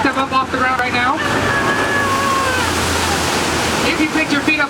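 Water splashes and rushes loudly and continuously as a safari ride vehicle drives through standing water at Busch Gardens Tampa's Rhino Rally, with a tonal mechanical hum and a guide's voice in the mix.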